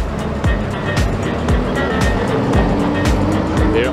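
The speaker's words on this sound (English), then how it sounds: "There are trucks and noises." A truck rolling past near a wedding venue in Salt Rock, a loud close rumble with repeated thumping bumps and rattles over constant road noise, no voices.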